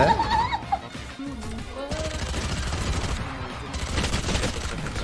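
Rapid bursts of rifle fire from the tactical shooter game Valorant rattle through a fast in-game firefight, loud and near, with a few sharp impacts and a brief chirping effect at the start.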